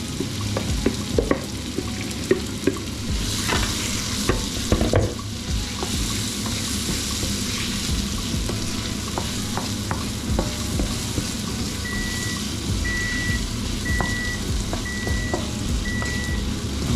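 Onion added to spices frying over medium heat in a pan for an Indian Bombay potato dish sizzles steadily while a utensil stirs and scrapes. A faint, repeating electronic beep sounds in the background near the end.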